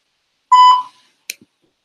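Short electronic voicemail beep on a phone call: one steady tone of about half a second, then a faint brief click after a pause, in silence otherwise.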